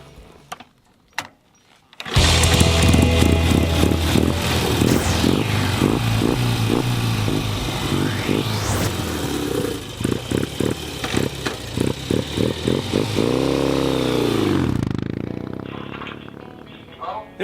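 A 1967 BSA Thunderbolt, a 1960s British cafe racer style motorcycle, starts and idles with a steady thumping beat, then is revved in repeated loud blips before it shuts off and goes quiet.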